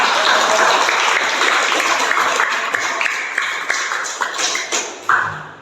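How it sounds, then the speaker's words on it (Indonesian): Classroom applause from a group of students, loud and dense clapping that carries on steadily, then thins into a few scattered final claps. "Ya, tepuk tangan untuk saudara Jida"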